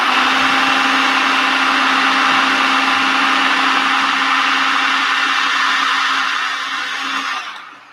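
A high-powered blender or food processor whirs continuously as it grinds almonds into homemade nut butter, a loud steady drone with an even motor whine that fades out at the end.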